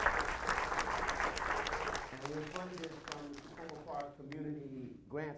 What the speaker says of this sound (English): we give a great round of applause for the support of Diane Cohn